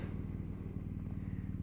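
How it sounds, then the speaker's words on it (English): A 2018 BMW 1200 GS Adventure Rallye motorcycle engine runs with a low, steady, even rumble, quiet and unaccompanied throughout. "what I'll do is I'll start the bike up"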